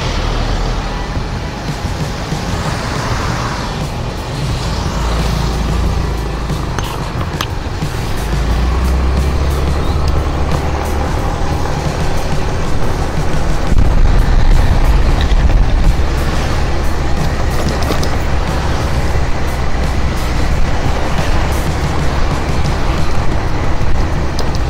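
Car driving along a road toward a waterfall, a steady close engine and tyre drone that swells louder partway through, with passing traffic noise and no talking.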